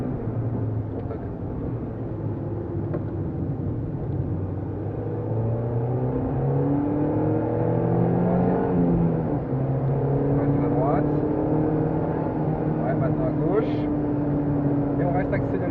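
A Peugeot 206 S16 engine pulls hard on a Clastres track while the car zigzags, its pitch repeatedly sweeping up and down through gear and throttle changes, moderately loud from inside the cabin.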